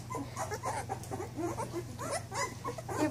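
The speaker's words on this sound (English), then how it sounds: "Some of them are starting to even growl and bark." Young Newfoundland puppies on a farm whimper and whine continuously in a busy chorus, with thin high cries overlapping and a low steady hum underneath.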